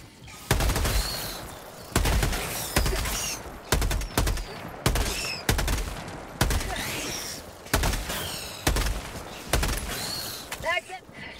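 Bursts of SMG gunfire in Helldivers 2, about ten short rapid volleys spaced through the passage, loud and close, with creature screeches and some speech in between.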